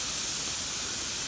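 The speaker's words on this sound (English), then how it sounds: "And it's fizzing really well, just like most of the bath bombs do." A surprise-toy bath bomb fizzes steadily in bath water, giving a soft, even hiss that stays close and continuous throughout, with no talking.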